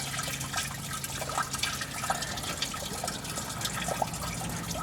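Coolant dribbling and splashing from a leak above the starter of a Duramax diesel engine, a steady close trickle with scattered drips and no voices.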